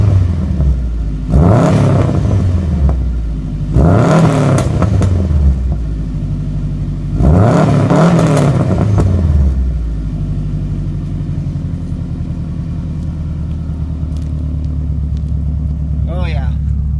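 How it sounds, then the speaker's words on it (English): A Subaru Forester STI clone with a Turbo XS 3-inch exhaust, parked on ice, gives three loud throttle blips that rise and fall at an outdoor idle. A steady rumbling idle continues afterward. "do a little rev up for it"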